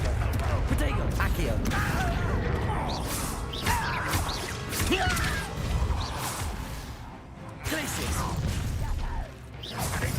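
The Confringo blasting spell fires in Hogwarts Legacy amid a busy combat mix of mechanical clatter, whooshes and impacts, moderately loud and continuous, with a voice speaking over it.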